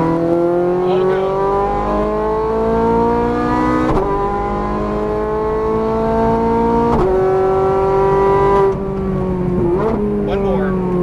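Ferrari 430 Scuderia engine on a race track, loud and close, rising in pitch as it accelerates, dropping briefly at each upshift, then climbing again, with an instructor's voice talking over it.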